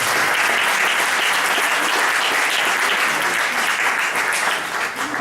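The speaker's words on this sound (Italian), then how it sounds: "fategli un applauso" Loud, dense applause from an audience at an Italian book presentation, honoring the publisher, sustained for about five seconds before tapering slightly at the close.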